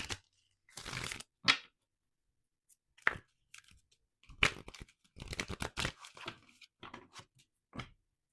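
Numerology guidance cards being shuffled by hand, sounding as several separate bursts of crisp riffling and card rustle with short pauses in between, close and fairly quiet.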